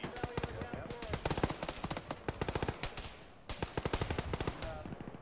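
Rapid automatic gunfire fills a military video game firefight, dense bursts of shots crackling close and loud with a short lull midway.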